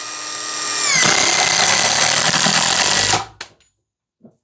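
A Hanabi impact drill drives a screw into wood at high speed: a rising motor whine settles into a loud, buzzing, rattling drone for about two seconds, then cuts off abruptly, followed by a couple of small knocks.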